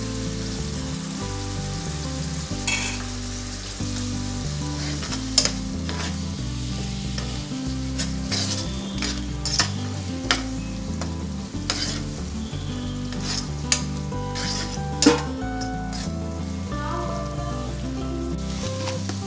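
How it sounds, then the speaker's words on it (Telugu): A pot of tamarind broth bubbles and sizzles steadily at close range while ground masala is stirred in, with occasional spoon clinks and no talking. "పులుసు బాగా ఉడికిన తర్వాత మనం ముందుగా మిక్సీ పట్టుకున్న మసాలా వేసుకోవాలి"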